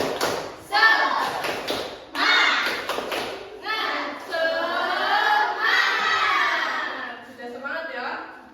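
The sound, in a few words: class doing the 'tepuk semangat' clapping chant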